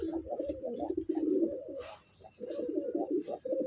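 Shirazi pigeons at a pigeon sale cooing close by in a run of low, rolling, throaty phrases, with a short pause partway through before the cooing resumes.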